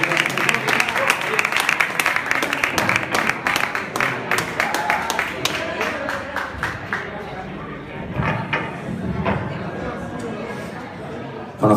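Live audience applauding and clapping for a performer at a music show, a dense patter of hand claps with crowd chatter running throughout and a brief lull near the end.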